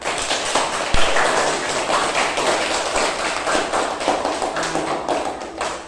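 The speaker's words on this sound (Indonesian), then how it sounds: "Semuanya tepuk tangan untuk kita semua." A classroom of students claps together in a dense, steady round of applause lasting about six seconds, with no talking over it.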